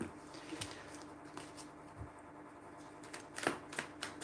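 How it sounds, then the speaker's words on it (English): A deck of tarot cards being shuffled, giving soft, irregular riffling and patter at close range with a few sharper snaps, and no talking. "I'm just going to just shuffle these cards here"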